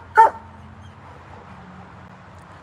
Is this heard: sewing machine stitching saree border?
no